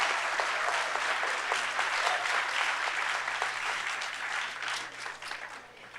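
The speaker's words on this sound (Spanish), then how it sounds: "Un aplauso al Politécnico, por favor, y a los estudiantes que están aquí." Sustained audience applause fills a university auditorium at an industry conference, a dense, steady wash of many hands that fades slightly toward the end.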